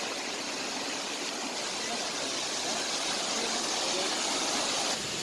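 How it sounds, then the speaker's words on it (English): Waterfall at Mawsawdong falls near Sohra, Meghalaya, a steady broadband rushing roar that stays constant throughout with no voices. "Lovely waterfall."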